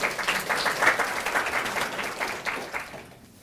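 An audience applauds an award recipient after a lecture-event presentation, a dense, steady clapping that holds loud and even before fading out near the end.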